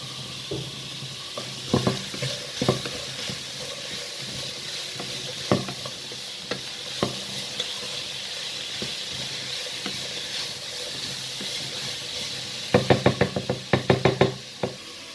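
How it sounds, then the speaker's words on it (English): Vegetables stir-fry in oil and butter for pasta with minced meat, a steady sizzle punctuated by occasional utensil knocks against the pan and a quick burst of rapid scraping taps near the end. "I'm going to put some little bit oil and butter in it so they can stir fry properly"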